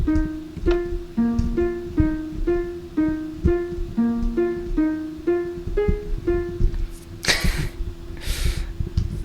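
Minecraft noteblocks play a plucky, evenly paced melody. A sharp burst of noise near the end cuts across the notes.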